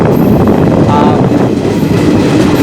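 Train rolling through the Saranda jungle, a loud, constant rumble of wheels and carriages heard from on board, steady throughout with no break.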